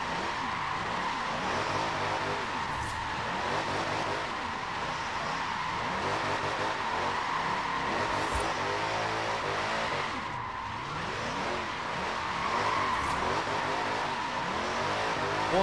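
A car in Forza Horizon 4 accelerates with a continuous engine roar, shifting gears and brief tire squeals, steady and fairly loud with no talking.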